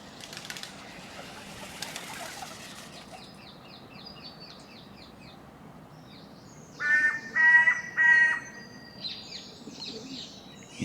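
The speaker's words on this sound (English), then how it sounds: "Yes, Mr. Crow." A crow calls outdoors in a quiet setting, several harsh caws in a short burst near the middle, with faint background chirps from other birds.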